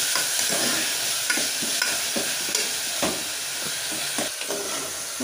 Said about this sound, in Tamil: தக்காளி போட்டு நல்லா ஃப்ரை பண்ணுங்க.